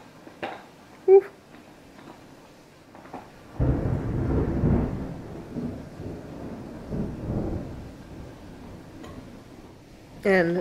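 Thunder from an ordinary spring thunderstorm rolls in as a long, deep rumble lasting several seconds and then fades, heard indoors with a few faint ticks and knocks before and after.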